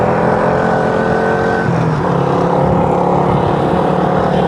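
A vehicle plowing through floodwater on EDSA, with water and mud surging around it: a loud, steady roar of engine and churning water, close and continuous.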